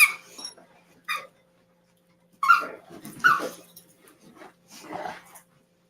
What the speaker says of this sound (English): they'll just hear him in the corner chewing on his ball, growling